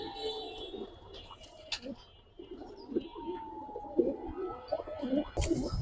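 Giribaz pigeons in a loft give soft, intermittent coos and low burbles, fairly faint, amid light rustling and scattered background sounds.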